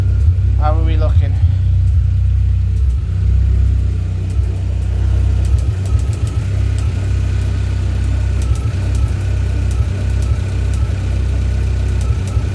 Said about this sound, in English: She is misfiring though. Yeah, there's a misfire there.